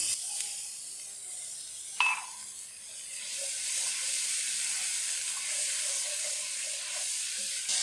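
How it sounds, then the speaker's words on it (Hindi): Half a cup of water hits spiced masala cooking in a pan, giving a sharp burst of sizzle and hiss, then a steady, close frying sizzle and bubbling that continues alone throughout. "हाफ कप पानी डाल के इसे कुक कर लेंगे।"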